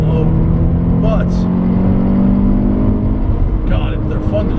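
A Scion FR-S (GT86) fitted with TRD accessories held at full throttle in third gear on a race track, the engine droning loudly and steadily close by, with a voice talking over it.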